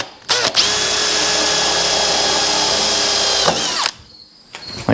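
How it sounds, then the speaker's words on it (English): A power drill whirs loudly and steadily for about three seconds, starting and stopping abruptly, close up. "and then I've got to drill"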